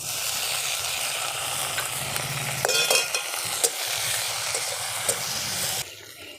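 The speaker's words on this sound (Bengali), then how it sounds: "এবার টমেটো কুচি দিয়ে দেব।" Chopped tomatoes hit onions already frying in a pan, a dense, close sizzle with a few sharp scrapes and crackles of stirring, the hiss easing near the end.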